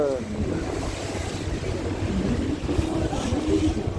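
Strong wind buffets the microphone aboard a tour boat on the Seine in Paris, a steady rushing roar with low water and engine rumble beneath and faint voices in the background.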